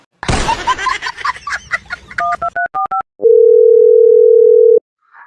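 A phone call starts with a quick run of loud keypad beeps, then a single steady electronic tone rings out for about a second and a half before it cuts off, with no voices.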